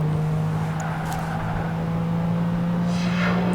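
A GT race car drives the Barcelona circuit in the video game PGR2, a loud steady engine drone holding a constant pitch throughout, with faint tire noise.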